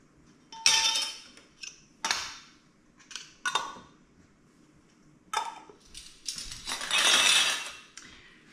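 Washed metal canning lids clink and clatter against one another in several sharp bursts of bright metallic jingling, separated by brief pauses, close by with no talking.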